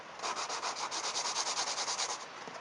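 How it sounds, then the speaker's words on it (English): Sanding a crosshatch onto a car windshield to prepare it for mirror adhesive, with quick rhythmic back-and-forth rubbing strokes, faint and close, around twenty regular passes with no talking. "Just move around in a few different directions, put a crosshatch."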